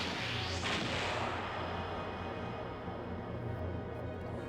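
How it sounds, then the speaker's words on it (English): A cannon fires in the video game Skies of Arcadia Legends, with a broad blast near the start that fades into a rumbling wash, while background game noise and faint talk continue. "Oh look, a cannon finally shot it."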